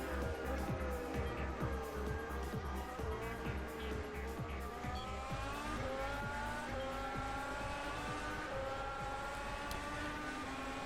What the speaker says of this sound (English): On to the last lap, and James Sadler makes a tidy move on the struggling Daniel Kiss into turn 1